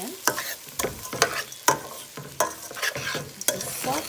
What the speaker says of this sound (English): we're going to saute this uncooked rice in with the ingredients